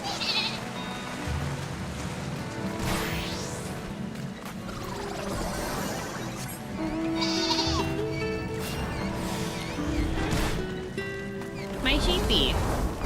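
Sheep bleat in Final Fantasy XIV, several wavering calls rising over game music and ambient effects, with a person talking through much of it.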